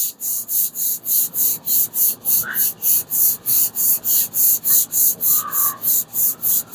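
Hand block sanding on the body of a Plymouth Duster car makes a rhythmic back-and-forth rasping, about three strokes per second, steady, loud and close, with no talking over it.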